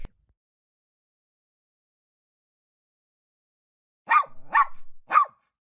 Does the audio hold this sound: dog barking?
yes